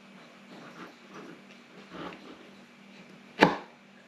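A knife slices down through a crispy Manchester tart, giving one sharp crunchy crack after a few soft faint scrapes, close and alone with no talk.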